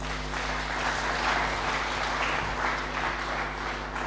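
Congregation applauding during a Sunday church service, a steady dense wash of clapping held at an even level throughout, with a low hum running underneath.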